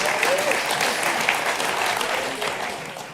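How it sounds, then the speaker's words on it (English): Audience applause fills a hall at a political party's national conference, a steady dense clatter of many hands that holds evenly for a few seconds before easing slightly toward the end. "I wasn't saying that for the applause, I promise you"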